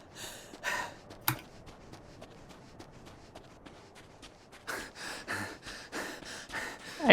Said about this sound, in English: Why did you have to have a cutscene with them panting?